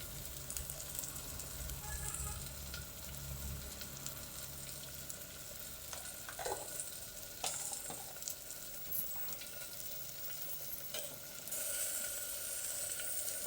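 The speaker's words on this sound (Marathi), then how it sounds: "आता टमाटर मस्त मॅश होईपर्यंत शिजवून घेऊ।" Salted tomatoes cook down in a pan for egg bhurji, giving a soft, continuous sizzle with occasional clinks and scrapes; faint overall, with no talking.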